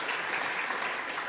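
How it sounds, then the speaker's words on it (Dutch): Brief burst of dense applause in a Flemish council meeting chamber, a steady wash of clapping lasting about a second. "ik stel voor hem tussentijds toch even een applaus"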